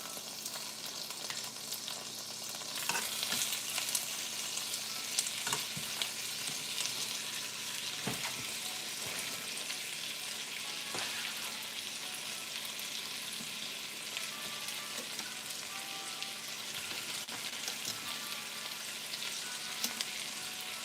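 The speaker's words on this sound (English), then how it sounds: "let's add the oxtails back to the skillet" Oxtails sizzle in a skillet, a steady dense frying hiss that fills the whole stretch, punctuated by occasional soft clicks and knocks of a utensil, no speech.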